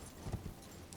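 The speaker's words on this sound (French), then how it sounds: "Si, c'est un cheval avec des cornes." In the Elden Ring game, the horned spirit horse Torrent gallops with a few muffled, soft hoofbeats in a short burst. The hooves sound faint and distant.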